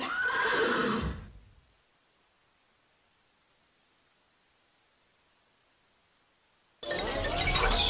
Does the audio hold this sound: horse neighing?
yes